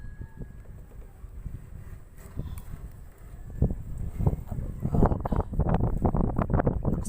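Wind buffets a microphone outdoors on the water during a fish-hunting trip, a steady low rumbling roar that thickens into heavier gusty blasts in the second half.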